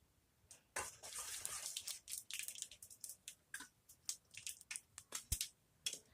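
Mustard seeds, cumin and fenugreek splutter in hot oil, giving irregular close pops and sizzling crackles scattered over a low background hiss.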